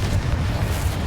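A Confringo spell blast in the video game Hogwarts Legacy, a dense, booming explosive rumble that fills the whole short moment at close range.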